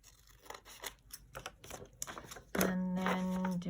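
Paper snipping and crinkling as scissors trim a glued spine edge from a book page, a string of close, crisp cuts followed by a steady tonal hum.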